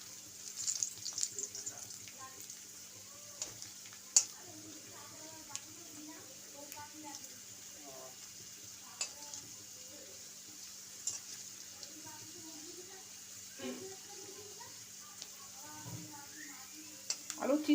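Homemade carrot chips sizzle and crackle faintly in hot oil, with occasional stirring clinks and a voice talking over the frying.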